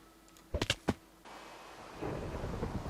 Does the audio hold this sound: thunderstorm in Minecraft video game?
yes